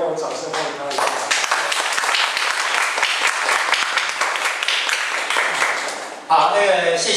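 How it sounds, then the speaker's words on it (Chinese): A lecture-hall audience claps warmly to welcome a guest speaker at a talk on participatory budgeting. The dense applause runs steadily for about five seconds, and voices talk at the start and as it fades. "请大家稍微用掌声欢迎他一下。"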